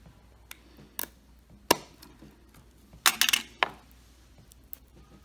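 A soybean grain is snapped and broken open by hand, giving a few sharp, brief dry cracks spread out with quiet gaps between them, one louder cluster of crisp crackling in the middle, all close up and without talk.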